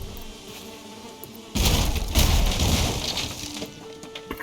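Bees buzz around a beehive as it is grabbed in the survival game Valheim; a faint hum gives way to a sudden loud surge of buzzing and rustling that slowly fades.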